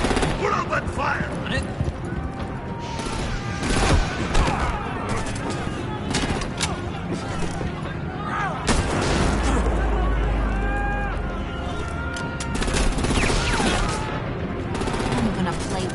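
Gunfire rattles through a shootout in the Telltale Batman video game, with dense bursts of shots, shouted voices and action effects heard almost throughout, and a deep rumble joining midway.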